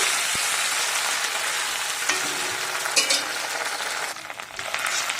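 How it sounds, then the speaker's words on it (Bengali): Onion and ginger-garlic paste fry in hot oil with a loud, steady, close sizzle, punctuated by a few faint stirring clinks. "ওই তেলেতেই পেঁয়াজ দিয়ে দিচ্ছি আদা রসুন মিক্স করে বাটা দিয়ে দিচ্ছি"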